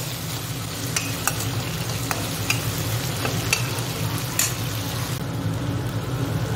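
Crushed ginger and garlic stirred in a frying pan give a steady close sizzle and fry, with occasional sharper clicks of the utensil scraping the pan.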